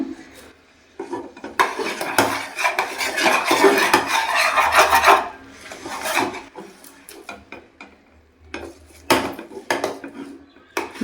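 A ladle scraping and clattering against a metal pot while thick ragi mudde dough of finger-millet flour is stirred, a dense stretch of rhythmic rubbing followed by quieter, sparser knocks.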